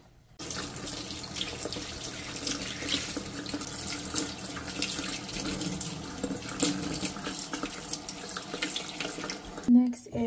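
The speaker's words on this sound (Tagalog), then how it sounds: "First thing first, let's wash the strawberry." Fresh strawberries are washed under a running kitchen tap, a steady close rush and splash of water lasting nearly the whole time, with a few small clatters near the end.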